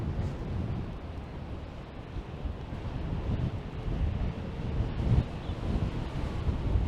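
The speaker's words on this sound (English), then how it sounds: "And this wind has really picked up." Strong gusty wind by a Toronto lakeshore, loud low roaring buffeting across the microphone without letup, with a faint wash of water beneath.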